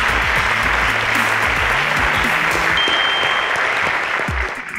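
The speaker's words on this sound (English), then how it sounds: "A round of applause." An audience at a school quiz show claps in a steady burst of applause that fades out at the end.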